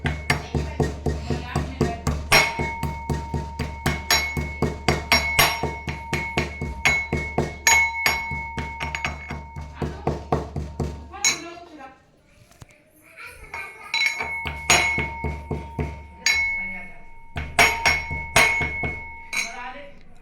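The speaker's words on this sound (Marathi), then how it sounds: "आपण इकडे आता इलायची कुटून घेऊयात" Rapid, steady metallic pounding of a pestle in a mortar, crushing cardamom in a sharp clinking rhythm that pauses briefly midway, then resumes.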